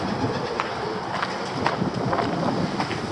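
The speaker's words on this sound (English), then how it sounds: "And pigeons." Pigeons coo softly in repeated low, rhythmic calls beside a canal, steady under light wind noise, fairly near with no talking.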